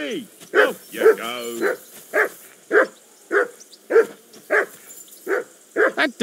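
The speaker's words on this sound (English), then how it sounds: "dog of yours is barking like the devil" Close, insistent barking from a dog in the video game Kingdom Come Deliverance II, about a dozen sharp woofs in a regular, quick rhythm with one strained, howling bark early on, no talking over it.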